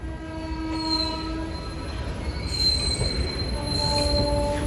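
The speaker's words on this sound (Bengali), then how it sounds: "এদিকে মালগাড়িটা চলে যাচ্ছে" A freight train passing through a quiet station, loud and close, with sustained metallic wheel squeal and whining tones over a heavy rolling rumble.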